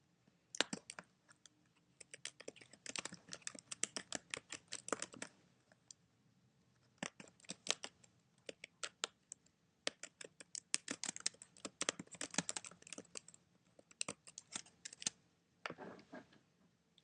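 Typing a message on a computer keyboard, bursts of quick sharp key clicks separated by short quiet gaps, close-up and fairly faint with no voices.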